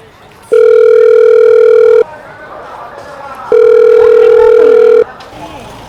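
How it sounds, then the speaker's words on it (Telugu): A telephone ringback tone purrs twice, each steady ring lasting about a second and a half with a pause between, loud and close. "అవతల పక్కకి వెళ్ళి శివ ఫోన్ చేస్తా ఒకసారి ఈ ఫోన్ ఎత్తే బాగుండబ్బా"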